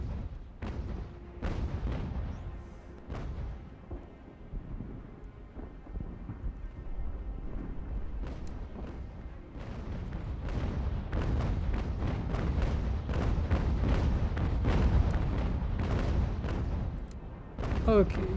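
Repeated booming cannon volleys from sailing warships in a naval battle in the video game Ultimate General: American Revolution, a rumbling barrage of overlapping blasts that runs loud and dense throughout.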